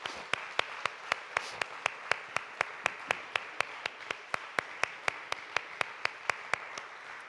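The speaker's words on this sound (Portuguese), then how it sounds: "Você pode aplaudir ao Senhor?" A church congregation applauds during a worship service. The sharp claps come in a steady, evenly spaced rhythm, as if one nearby clapper is keeping time. They sound fairly quiet but crisp against a soft background.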